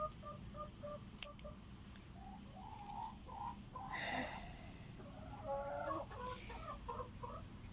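Hens cluck in short repeated bursts at moderate distance, with a brief higher call in the middle over a quiet, steady background hum.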